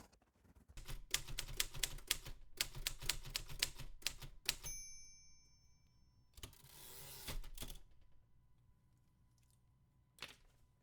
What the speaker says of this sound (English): you're writing back home to tell folks what's up